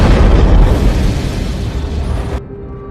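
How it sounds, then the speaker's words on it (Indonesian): A loud, rumbling explosion booms close by, its roar sustained and slowly fading before cutting off abruptly. "Lalu dia membuat ledakan di luar bangunan agar keberadaannya diketahui oleh seseorang."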